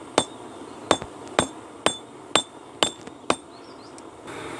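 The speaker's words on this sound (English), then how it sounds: "This footage just shows me forging some basic tongs using this set down method which I'm currently practicing." Hammer blows ringing on an anvil while basic blacksmith tongs are forged by the set-down method, seven sharp metallic strikes at a steady, slightly uneven pace, close and clear with no talk.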